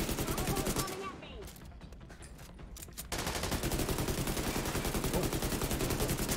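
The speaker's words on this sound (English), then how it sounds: "They're shooting me!" Enemy gunfire in The Division 2 rattles in rapid repeated bursts throughout, loud and steady, dropping briefly before resuming in a sustained automatic stream, with a voice faintly underneath.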